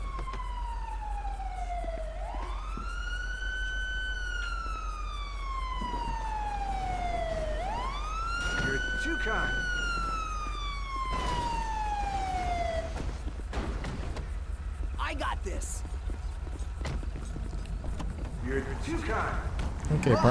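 Ambulance siren in the GTA 5 police mod video game, a loud wailing tone sweeping up and down in slow cycles, followed by clattering game noise and rising clutter near the end.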